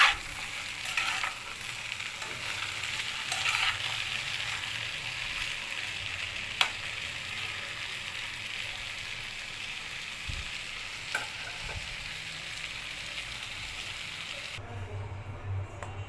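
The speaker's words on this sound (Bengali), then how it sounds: "এবার এটাকে খুব ভালো করে মিশিয়ে ভেজে নিব।" Cauliflower and potatoes sprinkled with turmeric fry in hot oil while being stirred, giving a steady close sizzle with a few sharp scrapes and clacks of the spoon against the pan, no voices.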